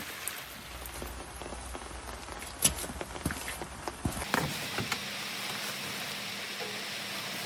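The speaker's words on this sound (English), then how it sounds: "as the day turns to rain" Steady rain patters on a backyard underground cabin build site with an open dirt pit, a soft continuous hiss with scattered nearby drips and taps that swells heavier and denser partway through.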